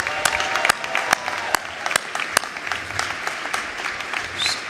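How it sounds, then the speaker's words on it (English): A graduation ceremony audience breaks into steady, sustained applause, with many hands clapping at once and a few sharp individual claps standing out near the front. "Would you please join me in a round of applause of gratitude to those who have done that?"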